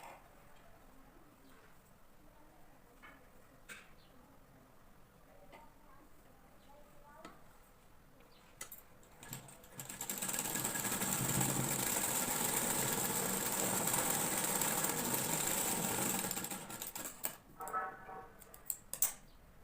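Sewing machine stitching a blouse seam, a steady whirring run in the middle section after quieter ticking handling sounds, then faint clicks as it stops; moderately loud and close.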